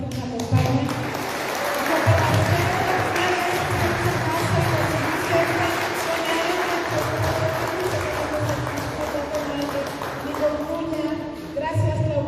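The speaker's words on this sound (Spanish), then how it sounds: "Démosle un aplauso, por favor, a las personas que nos acompañan." A church congregation applauds with sustained, moderately loud clapping that swells and thins over about twelve seconds, with some crowd murmur mixed in.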